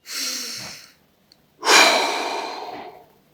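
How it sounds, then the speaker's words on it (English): Two deep breaths in a yoga mobility class: a short airy inhale, a pause, then a longer, louder exhale that tapers off, close and clear with no talk. "5 deep breaths for me"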